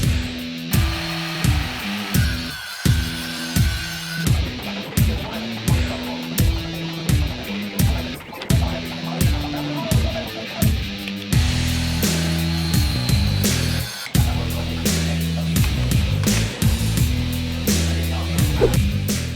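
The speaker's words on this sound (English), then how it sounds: "Because these are made of aluminum, you can actually cut them on your miter saw." A miter saw cuts aluminum pieces in a run of short, rhythmic bursts, each with a high whine and a rising grind, close and loud, with no talk.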